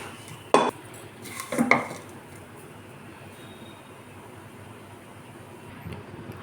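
Semai is spooned from a pan into a bowl with two sharp metallic clinks of utensil against dish early on. A quieter scrape follows near the end over a low, steady room background.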